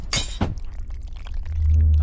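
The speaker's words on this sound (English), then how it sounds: "knocking both me and the glass containers to the floor." Glass vial containers crash to the floor and shatter, a sharp bright burst followed by a second impact, then a low rumble settling underneath.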